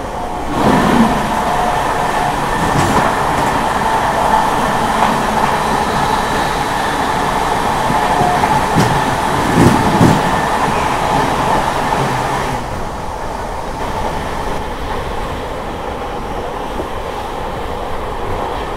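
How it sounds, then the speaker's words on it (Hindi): The 18310 Jammu Tawi-Sambalpur Express passes close by at speed, a loud continuous rush of wheels and coach rattle lasting many seconds before tapering off as the train clears. "सामने से आ रही है 18310 जम्मू तवी संबलपुर एक्सप्रेस"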